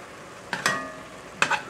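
Ground meat browns in a pan for a one-pot spaghetti meat sauce, with a soft steady sizzle and two distinct scraping stirs of a utensil against the pan, close and clear.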